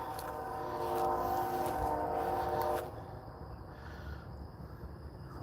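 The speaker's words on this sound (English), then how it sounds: "I hear a train." A train sounds in the distance, its horn-like tonal blare holding steady for nearly three seconds before cutting off, leaving a low rumbling background with no talk.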